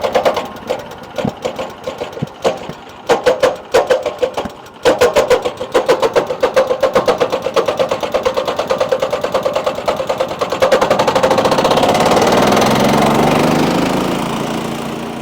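Engine of an ATV-towed flail mower sputtering unevenly at first, then smoothing into a steady, loud drone that rises in pitch and volume as it accelerates once the choke is eased off.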